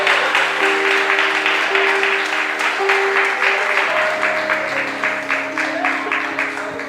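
A church congregation claps together in a steady, dense applause that fills the room, with a sustained organ or keyboard chord droning underneath and no one speaking.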